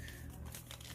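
A hair-coloring sheet is folded and creased with the back of a tail comb during an ombre color application, giving a close, steady crinkling and crumpling of thin sheet material with no talking.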